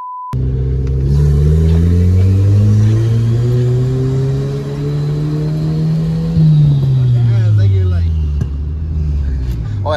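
A Honda Civic with a boost problem pulls away and accelerates, its engine note climbing steadily through a gear, then dropping and building again. The rumble is loud and close from inside the car, and brief talk sits faintly underneath.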